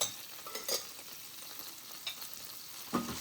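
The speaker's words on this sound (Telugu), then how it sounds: "దీన్ని ఇప్పుడు మంచిగా ఫ్రై అవ్వాలి" Paneer with pepper, chilli powder and turmeric frying in a pan, a steady soft sizzle broken by a few sharp scrapes and clinks of stirring, close by with no voices.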